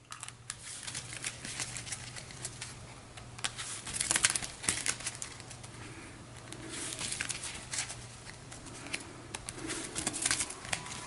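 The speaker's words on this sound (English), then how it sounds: "we'll give the deck a shuffle" A deck of game cards is shuffled at a tabletop gaming session, giving a long run of crisp riffling and papery flutter that swells into louder bursts near the middle and end, with no talking.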